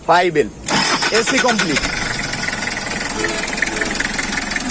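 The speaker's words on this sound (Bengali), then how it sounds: "গাড়িটির ইঞ্জিন সাউন্ড সম্পর্কে আপনারা ভালো করে শুনতে পাচ্ছেন।" A diesel car engine cranks briefly and catches, then settles into a steady, slightly knocking idle close by, with someone speaking over the start.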